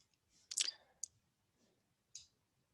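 Three short, crisp computer mouse clicks spaced apart while working in CAD drafting software, quiet and close with a faint background hum.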